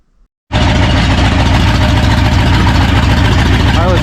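A Ford F-100 pickup with a swapped V8 engine starts up and runs steadily after carburetor repairs, a loud, close, rumbling idle that continues unbroken after a brief silence.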